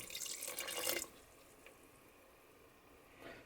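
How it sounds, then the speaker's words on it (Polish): Salted water poured from a container into a pizza dough starter in a home kitchen, a splashing, trickling pour for about a second that then stops, leaving a quiet room with a faint drip later. "jak już rozpuściłem sól w wodzie, to wsypuję połowę tej wody do mojego zaczynu."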